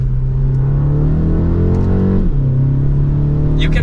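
A 2023 BMW 228i Gran Coupe M Sport driving in sport mode, its engine a loud steady hum inside the cabin that rises slightly in pitch and then settles.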